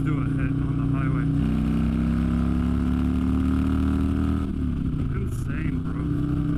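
A car engine hums loud and steady while driving, its pitch holding then dipping slightly near the end, with people talking over it.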